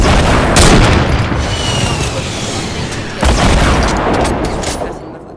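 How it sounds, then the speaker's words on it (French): Loud bursts of SCAR rifle fire and booming explosions from a Fortnite match fill the mix in dense, rumbling waves, with a sharp jump in intensity partway through, and a voice talks underneath. "il y avait un mec juste à côté qui tirait avec ce scar"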